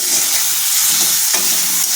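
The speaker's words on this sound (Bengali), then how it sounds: "সেই তেলেই এখন আলুটাকে ভেজে নিচ্ছি" Potatoes fry in hot oil with a close, steady crackling sizzle and occasional stirring scrapes.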